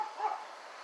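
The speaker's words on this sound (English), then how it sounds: "barking at the neighbor" A dog gives a single short, muffled bark or yip aimed at a neighbor near a house driveway, faint and somewhat distant, with no talking.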